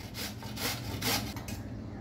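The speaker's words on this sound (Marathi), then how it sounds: "मी कैरी सालासहित किसणार आहे" A firm raw Totapuri mango, peel still on, is grated for pickle, making a close, rhythmic series of about five rasping scrapes against the grater, with no talking.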